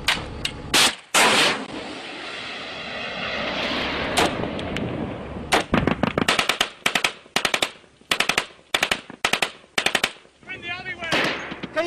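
A Javelin missile launched in combat in Afghanistan gives a loud roaring rush that trails off, followed by sharp bursts of nearby machine-gun and rifle fire in rapid, uneven volleys.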